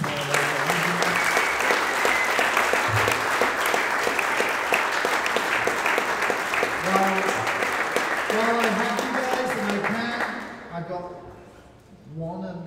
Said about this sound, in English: Huge round of applause for John.